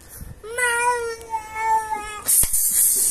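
One long, drawn-out meow from a nearby cat, wavering in pitch, followed by a short rustling clatter.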